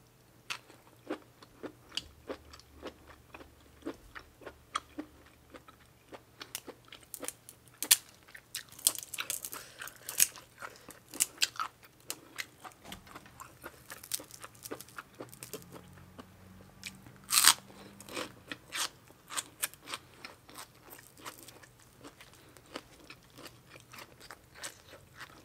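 Close, crunchy chewing of crispy wide noodles eaten with spicy papaya salad and rice vermicelli. Many quick, irregular bites and crackles sit over a quiet background for about twenty-five seconds, with no talking.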